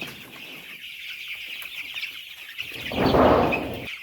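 Chickens on a poultry farm at night cluck and murmur close by in a low ongoing chatter, then a louder burst of rustling or flapping near the end.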